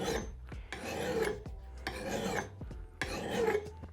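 A file is drawn across an axe's cutting edge in four even, rhythmic rasping strokes, each a gritty metallic scrape about a second long, close and clear with no speech.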